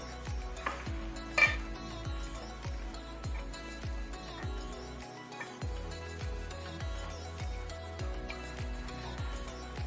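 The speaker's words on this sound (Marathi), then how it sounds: "असं थोडं थोडं करत टाकून चांगलं मिक्स करून घ्यायचं चमच्याने" A spoon works through raw mango pickle in a pot, producing steady, faint scraping and clinking strokes in a regular rhythm with no talk.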